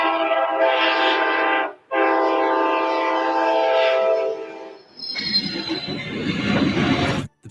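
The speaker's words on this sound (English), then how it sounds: "They came equipped with a Nathan K5LA air horn." Amtrak P40 locomotive sounding its Nathan K5LA air horn: two long chorded blasts separated by a short gap, loud and close, followed by the rumble and rattle of the passing train.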